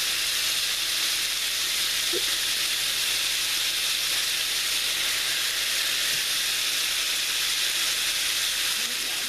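Bacon fries under a lid in a cast iron pan, producing a loud, even sizzling hiss that holds steady throughout with a couple of faint pops.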